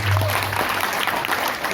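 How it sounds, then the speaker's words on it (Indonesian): Applause at a live religious gathering at an Islamic boarding school, a steady wash of crowd clapping filling the short moment, with a low hum underneath. "Tapi tepuk tangan dulu nih buat kedua"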